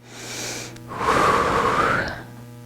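Breath exhaled during a beginner Pilates leg exercise, a long, steady airy rush lasting over a second after a brief intake, heard close and alone.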